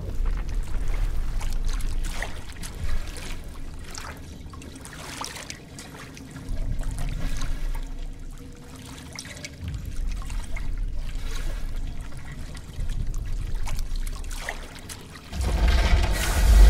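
Water sloshing and trickling in a combat scene in Call of Duty Advanced Warfare, a continuous wet churn that swells and eases, with a louder surge of splashing near the end and no talk.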